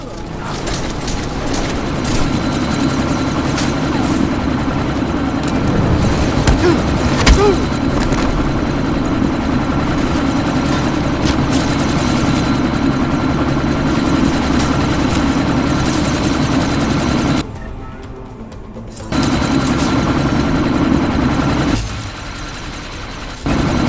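A helicopter taking off in the video game Deus Ex: Mankind Divided, a loud continuous rotor thrum and engine whine that briefly drops out twice near the end.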